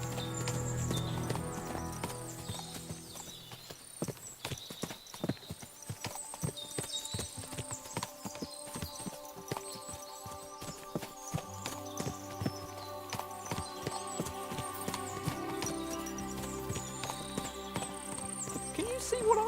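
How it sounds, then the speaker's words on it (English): Many horses clip-clopping at a trot in a video game scene, dense overlapping hoofbeats with occasional neighs and whinnies, music and talk running underneath. "What a lot of horses!"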